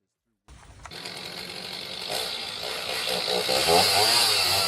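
A Hercules electric pull saw, its high-powered motor driving the blade back and forth, cuts into a tree with a steady, harsh buzzing whine that starts abruptly and grows louder and rougher as the cut deepens.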